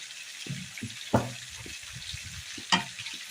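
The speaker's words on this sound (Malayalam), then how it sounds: "ഇനി ഇതിലേക്ക് നമ്മൾ അരച്ച് വെച്ചിരിക്കുന്ന അണ്ടിപ്പരിപ്പിൻ്റെ പേസ്റ്റ് കൂടി ചേർത്ത് കൊടുക്കാം" Cashew paste being stirred into a frying curry in a Kerala kitchen, with a steady soft sizzle under intermittent scraping stir strokes and a couple of sharper clanks, close and fairly quiet.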